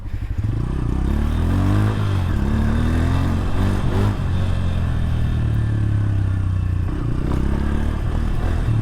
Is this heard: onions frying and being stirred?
no